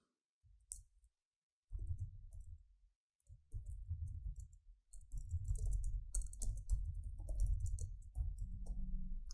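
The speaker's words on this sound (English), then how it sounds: "So let's type the text first." Close computer keyboard typing in irregular bursts of rapid clicky keystrokes, with short pauses between bursts, no talking.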